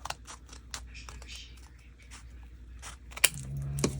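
Scissors trimming paper edges for a junk journal, a few quiet snips and rustles of paper up close, with a sharper cut near the end and some faint background noise.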